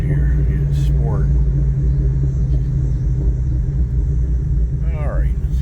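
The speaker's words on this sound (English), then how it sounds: "let's see the exhaust mode here. Yeah, sport." A Ford Raptor in sport exhaust mode gives a deep, steady engine rumble that stays loud and close throughout, with someone talking over it.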